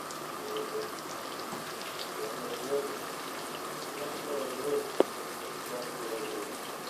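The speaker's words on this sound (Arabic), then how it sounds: "بدأت تغلي" Tomato sauce for chicken balls comes to a boil in a pan, giving a soft, steady bubbling and fizzing hiss with one sharp click near the end.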